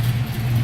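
A 1965 Ford Mustang Fastback with a 302 stroker V8 idles in a steady, loud, low rumble, heard close up and alone for a brief moment.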